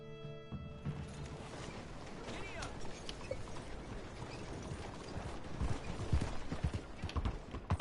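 Horse hooves clip-clopping at a steady rhythm in the video game Red Dead Redemption 2 Online, moderately close under a voice talking, with gear rattle.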